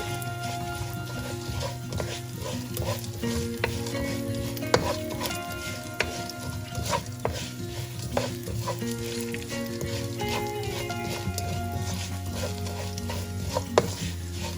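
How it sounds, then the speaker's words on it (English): Mace, flour and methi seeds sizzling and crackling in an oiled pan over a medium flame, a continuous close frying hiss with scattered pops and the occasional scrape of a stirring spoon. "And let them fry for a couple of minutes on a low flame, on a medium flame"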